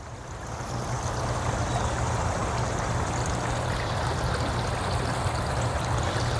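Water drains steadily from a koi pond through a swivel pipe, a continuous close rushing and trickling flow that holds even throughout with no talking.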